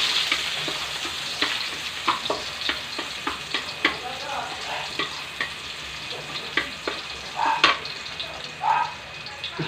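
Chopped garlic frying in a little cooking oil in a pan, a steady crackling sizzle with frequent sharp pops and spatters, close and moderately loud.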